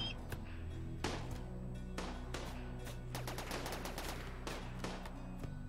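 Turrets in the base-game RimWorld open fire in repeated bursts, a rapid rattle of gunshots over a steady low background hum, with several dense volleys clustered toward the middle.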